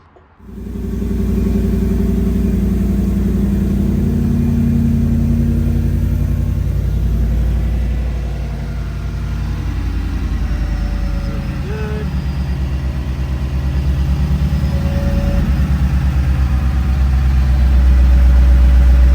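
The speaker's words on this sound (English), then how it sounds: "So I've had the truck running for about 5 minutes now." A Ford F150 pickup with a 10R80 transmission idles steadily nearby, a continuous low rumble that swells slightly at times and carries on alone without anyone talking.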